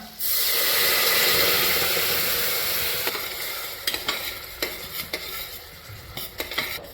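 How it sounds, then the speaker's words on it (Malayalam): Second coconut milk goes into a simmering Kerala-style olan with a loud hiss and sizzle that fades over a few seconds. Irregular clinks of stirring with a utensil follow. "എടുത്തു വെച്ച രണ്ടാം പാലില്ലേ അത് ചേർത്ത് കൊടുക്കാം"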